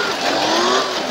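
Car drifting in BeamNG on Android, a loud close engine roar with a rising whine and tire squeal across a short burst.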